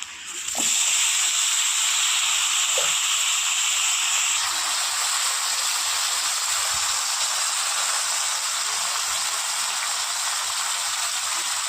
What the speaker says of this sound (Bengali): ফোড়নটা ভাজা হয়ে গিয়েছে এবার দিয়ে দেবো কুমড়ো আলু পেঁয়াজ আর ডাটা